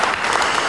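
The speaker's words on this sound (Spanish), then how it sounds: "ahí quieren aplaudir, vamos a aplaudir" Audience applause at a political talk on social policy: a dense, loud, continuous wash of many hands clapping together, heard alone for a brief moment.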